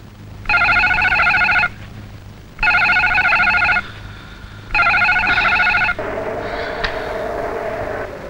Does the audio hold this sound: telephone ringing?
yes